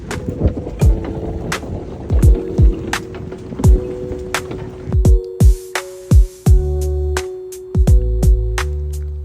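A small fast boat running out of Sanur harbour toward Gili Trawangan, its steady engine drone broken by a series of sharp, loud thuds as the hull slaps the waves.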